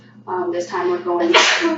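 A single loud, close sneeze bursts out near the end, preceded by a brief spoken phrase.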